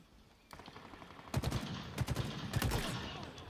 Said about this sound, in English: Battle rifle's nice and beefy, that's for sure.